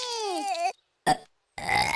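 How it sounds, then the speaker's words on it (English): A cartoon baby gives a short, loud burp between bursts of other cartoon baby sounds, close and clear. "You burped."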